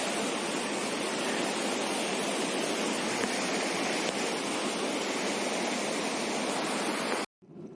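Deojharan waterfall in forested Deogarh near Gohira Dam pours in a loud, steady, broadband rush that holds unchanged for about seven seconds before cutting off abruptly.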